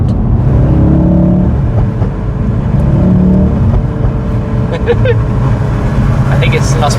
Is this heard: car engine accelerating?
yes